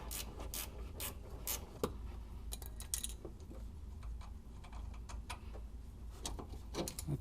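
Vice grip turning a suspension bolt on an Isuzu Rodeo Sport, scattered faint metallic ticks and clicks with a soft ratcheting rhythm, quiet and close with a low background hum.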